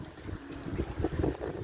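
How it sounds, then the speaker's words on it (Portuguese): Strong wind gusts roaring across an open mic in Planura, carrying dust, with steady low buffeting and rumbling pulses, no voices. "O vento tá passando aqui na minha cidade de Planura. Vai cheio de terra."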